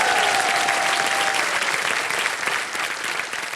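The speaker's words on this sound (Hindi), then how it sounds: "तालियां बज जाए इनके लिए" A studio audience at the KBC quiz show applauds a contestant on the hot seat, with loud, dense, continuous clapping that fades slightly toward the end.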